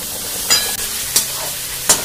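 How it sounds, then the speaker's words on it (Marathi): Beaten egg dropped into hot oil in a kadai, giving three short, bright sizzling bursts about half a second apart over a low, steady frying hiss, close and moderately loud. "कढईत तेल घ्यायचं आणि तेल घेतल्यानंतर हे फेटलेलं अंड त्याच्यात टाकायचं"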